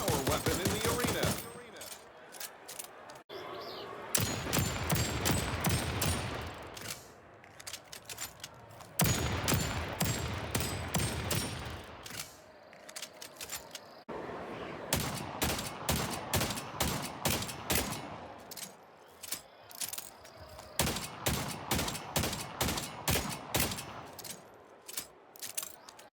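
Automatic weapon gunfire in the Splitgate 2 arena shooter, with long rapid bursts of sharp shots, some as a steady stream and others broken into short volleys, heard loud and close.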